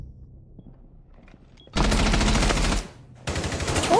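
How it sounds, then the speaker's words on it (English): Loud rapid automatic gunfire in a video game, two sustained bursts separated by a short pause, following a quieter stretch with faint background sounds. "Everyone keeps fucking shooting at him."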